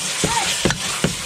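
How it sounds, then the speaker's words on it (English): Shrimp sautéing in a pan for Filipino monggo bean soup, with a steady sizzle and three brief stirring scrapes spaced about every half second. "so it will looks good and tastes good, and I saute it"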